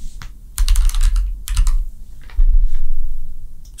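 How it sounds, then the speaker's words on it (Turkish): Typing a name on a computer keyboard, heard as clustered bursts of close, crisp key clicks with short pauses between runs. "buradaki text bloğunu alıyorum ve içine adımı yazıyorum"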